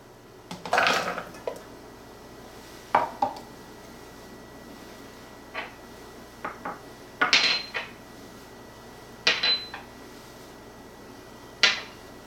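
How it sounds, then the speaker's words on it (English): A spoon knocking against a pan on a stovetop while blueberry pie filling is stirred, with several sharp, scattered clinks and taps spaced irregularly over a quiet background. "I'm just going to stir this occasionally until this is thickened and bubbly."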